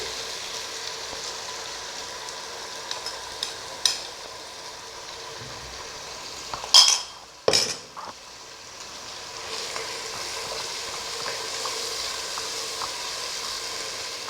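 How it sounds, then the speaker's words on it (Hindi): Marinated chicken sizzling in a pan for vegetable pulao, a steady hiss like light rain throughout, with a couple of louder clatters or stirs in the middle. "थोड़ा सा फ्राई करेंगे इसे।"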